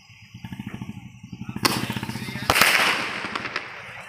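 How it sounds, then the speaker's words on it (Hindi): A three-shot firecracker is lit and goes off: a run of rapid crackling pops, then two sharp, loud bangs in quick succession with bursts of hiss and crackle, close by. "तो अब इस थ्री शॉट को जलाते हैं।"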